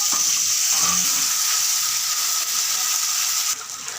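Onions, garlic and green chillies sauté in a pan as tomato and curry leaves go in, giving a continuous loud sizzle with a small clatter early on.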